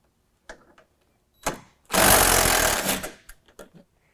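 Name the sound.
removing an 8 mm bolt on a Ford F-150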